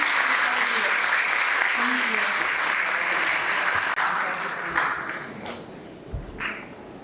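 An audience applauds after a presentation at a Harvard-style Impact Challenge event, steady broad clapping that thins toward the end, with a voice talking over it.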